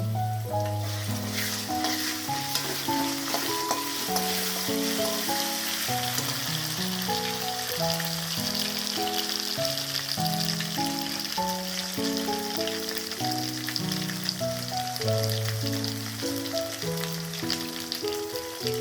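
Ginger-cumin paste frying with potatoes in a pan for a fig curry, giving a continuous close, crackling sizzle with occasional stirring, all under steady background music.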